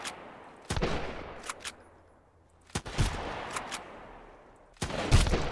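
Enemy gunfire in the survival video game Sunkenland cracks out in three separate bursts, each a short cluster of sharp shots with quiet gaps between them, set fairly close and ringing against a low background.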